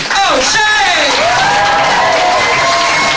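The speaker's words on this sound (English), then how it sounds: "clapping and cheering and giving it up for Mr. Phil" An audience applauding and cheering at a live comedy show, a loud dense wash of clapping with whoops, while a host's voice carries over the crowd.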